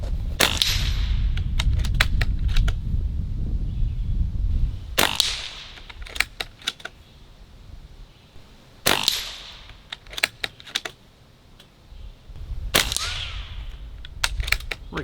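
A Barra 1100Z .22 airgun firing pellets at steel targets: four sharp cracks spaced a few seconds apart, each followed by quick ringing metallic pings of pellets striking steel.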